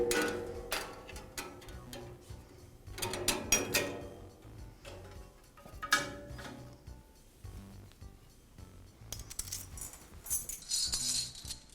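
Band saw blade pulled off the wheel tires of a Jet band saw, light metallic rattles, ticks and jangles in scattered bursts, close and quiet, no voice.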